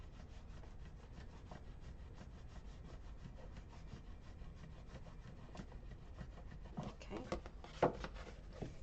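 A bone folder rubs and burnishes glued paper flaps on a handmade gift bag for a folio, a faint, steady scratchy rubbing with a few louder taps near the end.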